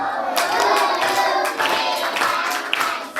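A group of children in a primary-three science class in Masaka, Uganda claps in unison, a steady burst of applause lasting a few seconds in a room.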